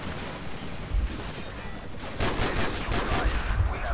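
Gunfire in the video game Call of Duty: Modern Warfare, a steady crackle of automatic shots and bursts that grows denser halfway through, loud and mixed with game ambience.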